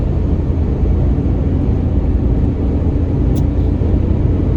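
A Renault Kwid's three-cylinder engine drones loudly at full throttle, a dense, steady low rumble of cabin noise without letup.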